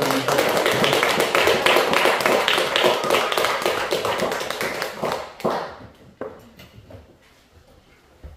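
A church congregation gives dense, sustained applause for a deacon coming forward to give a testimony, loud and crowded at first, then thinning into scattered claps and fading out.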